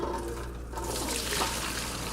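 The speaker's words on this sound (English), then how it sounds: "Now we're going to take this and we're going to strain it" Fajita marinade liquid, used for steak, is poured through a colander, giving a steady splashing, trickling pour that runs close and continuous for about two seconds with no talk.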